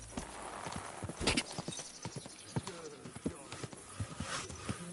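Horse hooves clip-clop at a steady walking pace in the video game Kingdom Come II, close and distinct, with some talk in the background.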